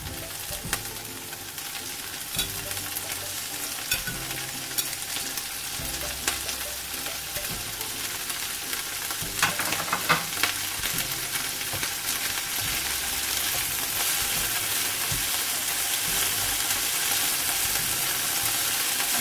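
Mixed vegetables for Singapore-style rice stir-fry over medium-high flame, a continuous hissing sizzle with intermittent scraping and clatter of the utensil, steady and close throughout.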